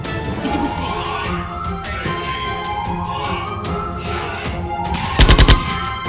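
Gunfire in a garage area during a frantic chase, with a short rapid cluster of loud shots near the end. Other noise runs continuously under it throughout.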